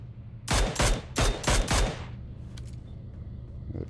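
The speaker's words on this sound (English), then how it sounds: "I'll shoot these tires out so we can't get away." Gunfire in a battle royale video game as a player shoots out a vehicle's tires, a quick volley of five loud, sharp shots followed by a fading echo.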